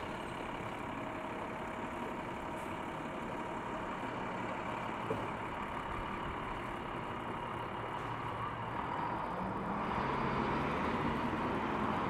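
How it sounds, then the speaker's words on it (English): A salting truck drives along a snowy midtown Toronto street at midnight, its engine a low, steady rumble heard from a moderate distance that swells slightly near the end. "There's a salting truck."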